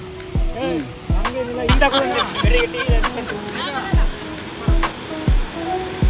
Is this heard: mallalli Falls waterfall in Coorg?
yes